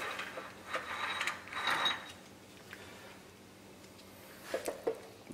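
Screwdriver prying a spring keyway out of a brake drum notch on a 14 bolt axle, faint metallic scraping and creaking with a few small clicks near the end, close and with no talking.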